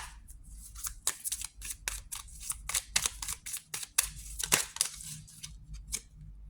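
Tarot cards are drawn and handled up close, giving a quiet series of crisp snaps, flicks and rustles in an irregular rhythm with no talk.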